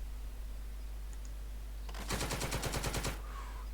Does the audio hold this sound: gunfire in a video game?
yes